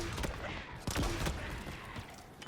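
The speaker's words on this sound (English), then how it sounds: "It's really satisfying, that Hydra, just clearing out those guys, not necessarily by shooting directly at them, but just shooting the ground around them" Hydra launcher fire in Halo Infinite campaign combat at Outpost Tremonius, a few punchy bursts and impacts spaced irregularly, with one strong hit near the start, a louder one at mid-clip and another at the end, over steady battle ambience.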